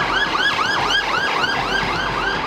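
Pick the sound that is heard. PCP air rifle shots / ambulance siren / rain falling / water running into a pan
ambulance siren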